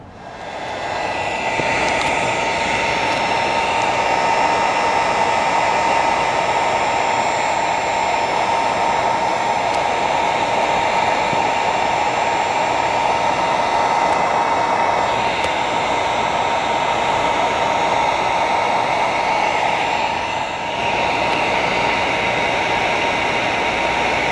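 A heat blower shrinks plastic wrap around a jack-o'-lantern outdoors, giving off a loud, constant whooshing hiss with a steady whine that runs unbroken for the whole stretch, with no talking.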